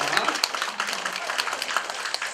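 An audience applauds at a broadcaster's 10th-anniversary ceremony. The clapping is dense and sustained from a sizeable crowd, with a voice faintly audible beneath it.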